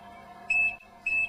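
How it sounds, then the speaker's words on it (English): Timer on a thermoforming machine timing out, two short high-pitched electronic beeps in quick succession over a steady low machine hum. "The timer has now timed out"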